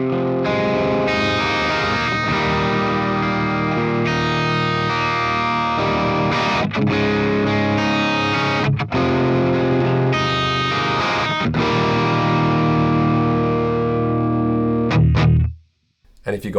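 Electric guitar played through a driven TONEX amp capture, picked lightly so the tone stays near-clean, sustained notes and strums ringing continuously and loud up close, ending with a sudden cutoff to silence.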